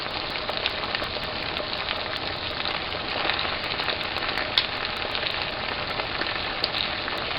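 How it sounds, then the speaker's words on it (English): Pasta sizzles in a pan with cooked shrimp, giving a dense, steady crackling frying hiss with small pops scattered throughout. The sound is close and even, with no talking. "I'm going to go ahead and add the pasta now"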